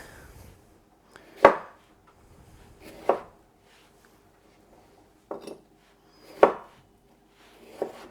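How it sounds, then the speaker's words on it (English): A knife cuts a peeled, deseeded vegetable into cubes on a board, giving five sharp, separate chops spaced a second or two apart, close and clear against a quiet kitchen. "And I'm just gonna cut this into cubes."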